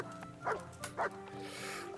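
A dog barks in Kingdom Come: Deliverance, two short close yaps about half a second apart over faint ambient background noise.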